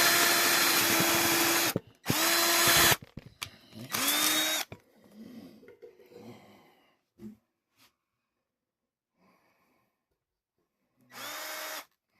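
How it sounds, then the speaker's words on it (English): A power drill bores through wood while making a spud wrench holder. It comes in three loud, close bursts of whining, then a quieter stretch of handling noise, and ends with one more short burst. "I use a drill."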